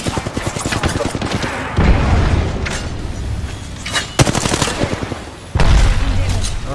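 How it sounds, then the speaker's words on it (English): Thermite and frag grenade blasts in Apex Legends, heavy booms and rumbling bursts mixed with rapid gunfire, loud and close, while a voice talks during the fight. "Throwing thermite grenade. Frag grenade set."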